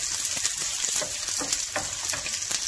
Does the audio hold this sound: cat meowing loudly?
no